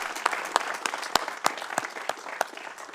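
Scattered applause from a small city council meeting audience, a few distinct sharp claps standing out over a loose, moderate patter for a few seconds.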